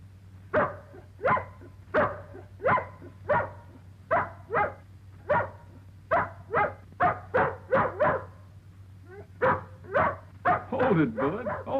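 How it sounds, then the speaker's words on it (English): Dog reacting to a dog whistle at a ranger station, giving repeated close barks, yips and whimpers in a steady rhythm over a low constant hum. "he hates this dog whistle"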